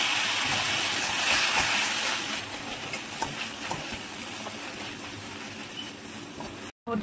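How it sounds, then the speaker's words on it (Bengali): A little water splashed into spice paste frying in a pan for a home-style curry, bursting into a loud sizzle that settles into a softer, steady bubbling hiss, with a brief dropout near the end. "বারবার করে অল্প অল্প করে জল দিয়ে মশলাটাকে ভালো করে কষিয়ে নিতে হবে"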